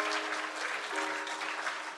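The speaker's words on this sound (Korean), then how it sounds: "하나님께 영광의 박수 올려드리겠습니다." A church congregation at a New Year's Eve service claps together in dense, sustained applause that fills the hall evenly, with faint voices audible beneath it.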